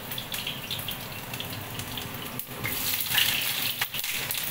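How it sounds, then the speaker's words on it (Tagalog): Onions frying over high heat in a pan give a steady, close sizzle and hiss with spattering crackles that swell louder toward the end, with no talking. "i-fry muna natin yung ating onion"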